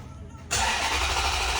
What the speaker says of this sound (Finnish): Laitetaan auto käyntiin.